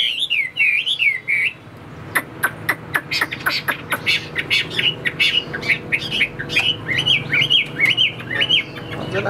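A caged Chinese hwamei songbird sings near and loud in rapid warbling phrases, with rolling whistles broken by sharp repeated chirps and short pauses.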